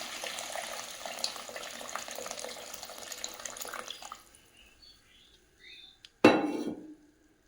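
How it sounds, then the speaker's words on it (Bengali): Water poured into a pot of simmering curry: a rushing, splashy wash of water gives way to quieter clinks, then a short, loud gush near the end. "এবার আমি জল দিয়ে দেবো তরকারিতে"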